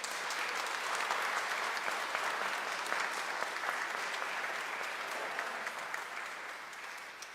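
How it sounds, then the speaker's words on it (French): A church congregation at Sunday Mass applauds three new altar servers, a dense, even wash of clapping from many people that fills the room and fades slightly toward the end. "Je vous demande de les applaudir chaudement."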